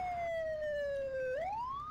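Fire truck siren in Farming Simulator 19, a loud, clear electronic wail sweeping slowly downward and then rising again, sounding alone without voices.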